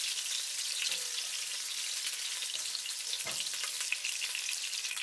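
Shrimp frying in hot oil in a pan for Cambodian stir-fried rice noodles, a steady, dense, close sizzle with occasional soft stirring scrapes and no talk.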